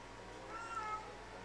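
A house cat gives a single short, faint meow indoors, brief and alone against quiet room background.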